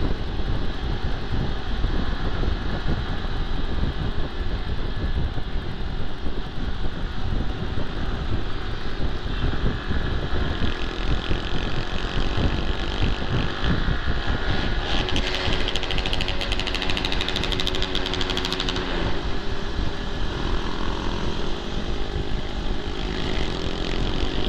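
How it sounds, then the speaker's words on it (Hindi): A car's exhaust drones loudly and continuously for over twenty seconds, a rough, steady mechanical roar with rattling texture and no talk. "आई होप आपको आवाजें आ पा रही होंगी एग्जॉस्ट की"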